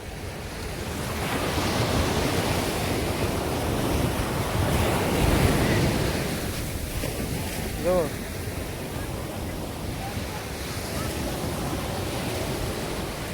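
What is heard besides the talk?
sea waves on Miramar Beach, Goa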